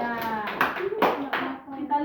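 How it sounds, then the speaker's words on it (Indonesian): Classroom applause for a classmate: a short burst of hand clapping mixed with voices talking over it, close and fairly loud, lasting about two seconds. "Tepuk tangan dulu buat teman kita."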